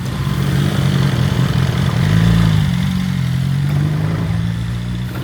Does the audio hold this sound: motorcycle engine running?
yes